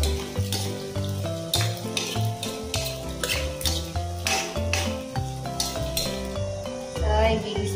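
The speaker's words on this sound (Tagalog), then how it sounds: "So, gigisa na natin." Ingredients for spaghetti sautéing in a pan, with a steady close sizzle broken by repeated stirring scrapes and clinks of a utensil against the metal pan, continuous throughout with no talking.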